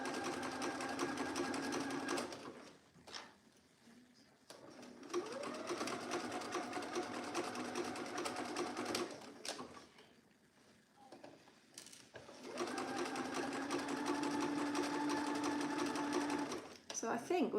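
A sewing machine runs in three long bursts stitching a seam on an Alice top with a 5/8-inch seam allowance, its whirring motor loud and close with brief pauses between runs.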